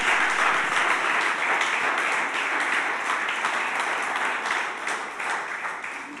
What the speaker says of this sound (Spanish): Aplaudile fuerte al Señor.